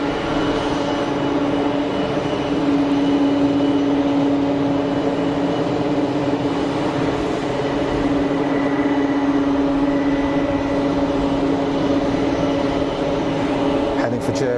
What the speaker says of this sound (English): Taxiing 767-300.